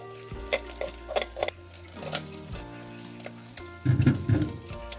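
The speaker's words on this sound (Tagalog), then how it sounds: "haluin lang natin ng haluin hanggat maluto yung bawang at sibuyas" Garlic and onion sautéing in a pan for an egg and sweet potato leaves dish, a soft sizzle broken by several scraping stirs, louder frying near the end, with faint music behind.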